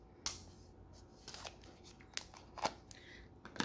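A few sharp snips and crinkly rustles from scissors cutting through the thin plastic wrap on a new book, sparse and close, in a quiet room.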